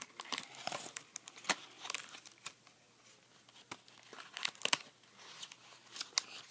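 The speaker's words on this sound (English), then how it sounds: "I might need scissors." Scissors snip and crackle through packing tape on a package, with intermittent sharp cuts, crinkling and rustling close by at a quiet level.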